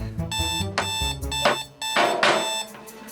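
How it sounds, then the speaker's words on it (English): An alarm clock rings with bright, repeated electronic tones in short bursts, fairly close and clear. "You hit the snooze alarm."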